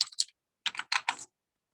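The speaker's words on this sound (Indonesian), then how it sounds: "Sama juga untuk teksnya kita bisa langsung ngetik dari sini" Keys on a computer keyboard are tapped in a quick cluster of clicks, then a short pause and a few more rapid strokes, close and crisp with silence between.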